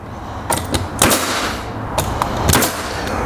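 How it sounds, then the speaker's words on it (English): Pneumatic roofing coil nail gun firing round-head nails through pipe flashing on a torch-down roof, with several sharp, separate shots spaced about half a second apart over faint background noise. "we're gonna install it using a roofing coil gun"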